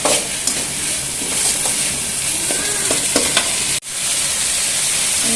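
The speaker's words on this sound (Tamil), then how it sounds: "சுண்டைக்காயை போடணும் அந்த எண்ணெயிலே வதங்கினா அது டேஸ்ட்டாக இருக்கும்" Turkey berries sauté in hot oil while being stirred in a pan for a kuzhambu, producing a loud, constant frying hiss with soft scraping stirs, close up and with no talking.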